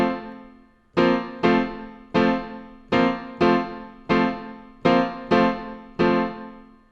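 Piano plays the repeating chord pattern from a song, about a dozen struck chords in an even rhythm, each ringing and decaying before the next, close and clear with no talking.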